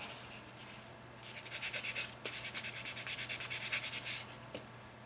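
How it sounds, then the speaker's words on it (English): A nail file sands press-on nails in a steady run of quick, rhythmic back-and-forth rasping strokes, close and fairly quiet, with a couple of brief scrapes before and after and no talking. "make sure that they are sanded, especially on those ends"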